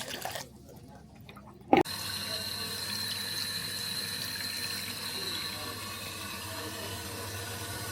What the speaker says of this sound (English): I normally run about 10 bowls of water down it just to make sure.